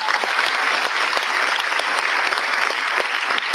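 A theatre audience applauds at a record-setting stage play performance, a loud, dense and continuous wash of clapping from a large crowd, with no voices over it.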